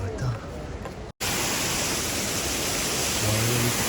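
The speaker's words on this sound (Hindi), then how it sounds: "रास्ते में मिला ये झरना, जो कि बहुत ज़्यादा खूबसूरत है।" Waterfall beside the trek path to Kedarnath, a steady broadband rush of falling water that stays loud and close throughout, briefly cut out for a moment near the start.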